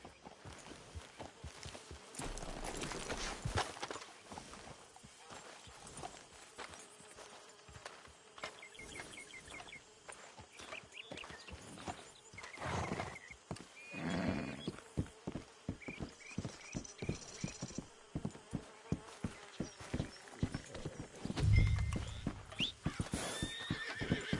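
Horses in Red Dead Redemption 2 whinny and snort while hooves clip-clop at a slow walk, with occasional louder neighs and no talking.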